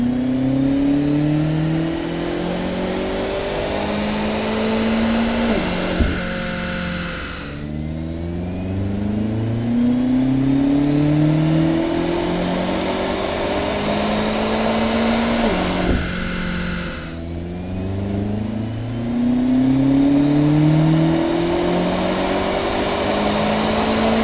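A BMW X5 with a 4.4 litre twin turbo V8 is revved hard on a dyno, climbing through the gears in three long sweeping pulls, each ending in a sharp drop before the engine winds up again, loud and close.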